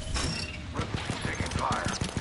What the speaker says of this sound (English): Gunfire, you're gonna hit me.